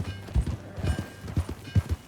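Horse hooves clip-clop at a steady walking rhythm in Red Dead Redemption 2, close and moderately loud, with several paired hoofbeats and no talking.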